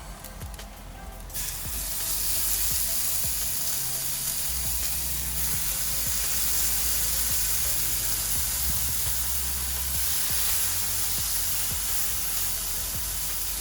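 Chicken breast searing in avocado oil on a hot griddle, a loud steady sizzle with bright crackling hiss that swells once the meat hits the surface and holds throughout, close up with no talking.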